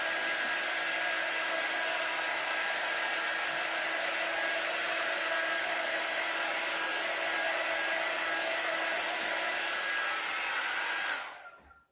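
A hair dryer blows over a handmade Valentine's craft door hanger with damp edges, giving a close, loud, steady whir that runs unbroken before cutting off abruptly near the end.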